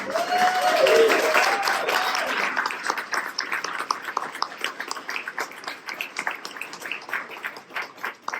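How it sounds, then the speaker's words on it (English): An audience at a spring annual meeting of a heritage organization gives a round of applause for commissioners, a dense burst of clapping that swells early with a voice over it, then thins into scattered claps fading away. "we could give them a round of applause"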